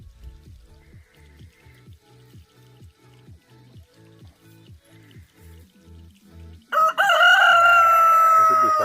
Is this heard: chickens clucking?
yes